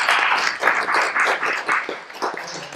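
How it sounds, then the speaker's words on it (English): An audience gives a round of applause, a bright flurry of many hands clapping close by in uneven bursts that swell and dip over a few seconds. "give yourselves a round of applause for the support that you've provided"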